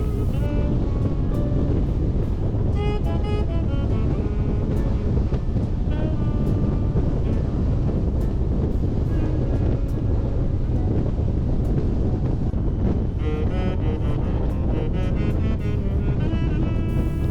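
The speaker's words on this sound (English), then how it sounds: "I can really feel the wind gusts and ride more slowly" Strong gusting wind in Iceland buffets the microphone of a rider in a constant loud roar, with rushing surges throughout and no voices.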